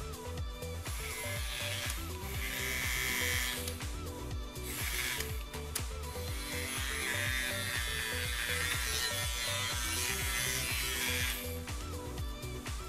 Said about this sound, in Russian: Вот так она работает и вот так вот включается.